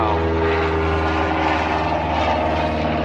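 Propeller airplane passing overhead, a loud, steady droning engine roar that fills the whole moment with no other sounds.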